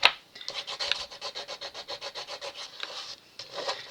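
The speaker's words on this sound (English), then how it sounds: "push that down and then just burnish it in place" Paper glued down for a handmade album is rubbed and burnished by hand in quick, even back-and-forth strokes, a close dry scraping rhythm of about twenty passes with a brief pause near the end.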